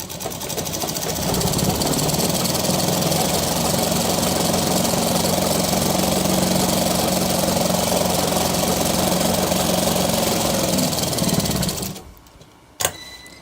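A sewing machine stitches shirt fabric in a loud, steady mechanical whir that runs for about eleven seconds, then stops abruptly, followed by a single click.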